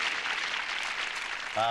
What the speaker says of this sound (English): Could you please stop clapping?